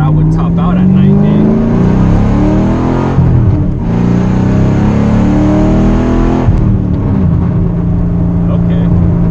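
A regeared drift Mustang accelerates hard from inside the cabin, its engine note climbing steadily and loud, with a brief dip near the midpoint before rising again; a voice speaks over the engine.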